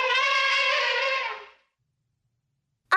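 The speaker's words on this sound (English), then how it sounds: "It's an elephant." An elephant trumpets in one long, bright, brassy blast lasting about a second and a half, loud and close, for a children's animal-sound guessing game; a voice briefly begins afterward.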